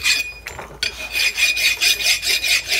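A hand file scrapes across the surface of a front brake rotor on a 1998 Dodge 2500 4x4, making a close, rhythmic series of about seven raspy strokes after a brief pause.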